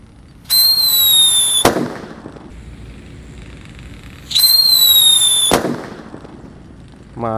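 Blackbuster firecrackers go off outdoors twice: each time a loud, rising whistle lasts about a second and ends in a sharp bang. A third whistle starts right at the end.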